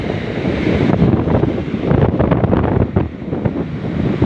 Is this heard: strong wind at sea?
yes